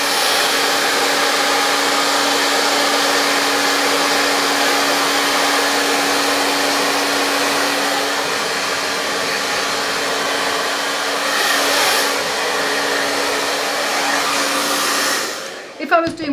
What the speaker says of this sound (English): Don't ever blow dry your hair back, because you want the weight of your hair to fall forward.